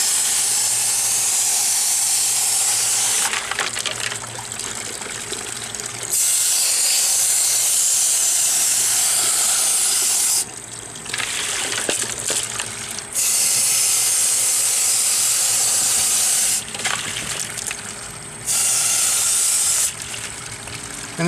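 Rock tumbler barrel slurry from a stage 1 grit tumble dumped into a cleanout sink, coming as loud hissing, splashing pours in several bursts with short quieter pauses between them.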